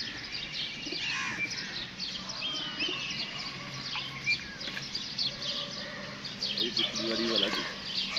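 Pigeons on a rooftop loft during a pigeon-flying contest, with steady bird chirping and calls close by under ongoing outdoor chatter from people nearby.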